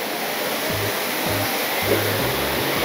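Artificial rain pours steadily over a resort rain dance area in Bangalore, a dense continuous hiss of falling water, fairly close and uniform, with faint low thumps beneath and no talk.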